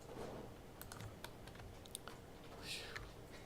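Computer keyboard keys pressed in a scattered run of soft, quick clicks, close but quiet, used to steer a spaceship in game code.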